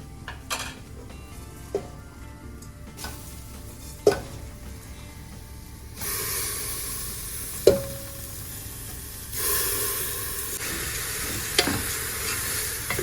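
Washed rice and dal stirred into sizzling masala in a pan: a steady sizzle swells louder partway through, broken by scattered scrapes and clinks of a spoon against the pot.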